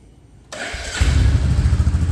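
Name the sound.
Royal Enfield Bullet 350 motorcycle exhaust at idle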